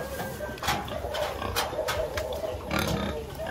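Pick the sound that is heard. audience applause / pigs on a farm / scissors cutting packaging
pigs on a farm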